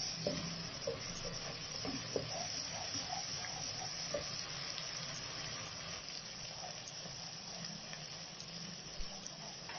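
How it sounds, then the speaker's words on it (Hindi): Ginger garlic paste frying in a pan makes a quiet, steady hiss and sizzle with small scattered crackles throughout. It stays faint and even, with no voices. "और ये मैं 1 चम्मच जो है अदरक और लहसुन का पेस्ट डाल रही हूँ। और अब हम इसको अच्छी तरह भूनते हैं।"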